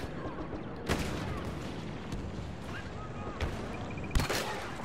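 Blaster gunfire in a Star Wars Battlefront Walker Assault match, rapid volleys of shots with a few louder bangs over a dense, continuous battlefield din.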